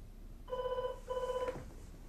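A telephone rings in a home during a missing-person search, with two clear electronic ring bursts in quick succession, fairly quiet and alone.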